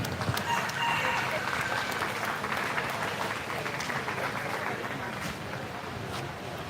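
A crowd applauds at a 4-H and FFA swine show at a county fair, with a steady patter of clapping that holds fairly even and fades a little over the last seconds. Faint livestock or background noise sits under it.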